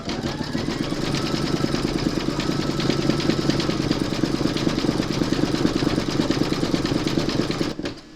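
An embroidery machine stitches metallic thread for a large mermaid and dolphin applique, producing a continuous, close mechanical whirring with a rapid rhythmic needle beat. It runs steadily and then stops abruptly near the end.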